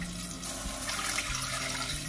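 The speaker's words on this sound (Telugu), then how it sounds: "సో ఇప్పుడు 2 కప్స్కి 5 కప్స్ వాటర్ యాడ్ చేస్తున్నాను." Water pours steadily into a cooking pot for khichdi, a continuous close rushing and splashing stream that holds at even strength throughout.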